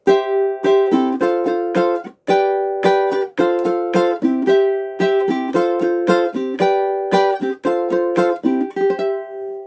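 Strummed ukulele chord inversions played higher up the neck, brisk rhythmic strokes with short pauses between chord changes, close and clear, no talking.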